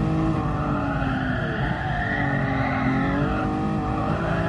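A Lamborghini sliding through a corner in Gran Turismo Sport, a Lamborghini Cup race held in third gear, with a loud, steady engine roar and sustained tire squeal running throughout, no talk.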